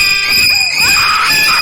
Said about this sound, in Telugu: నిద్రలో అరుస్తుంది.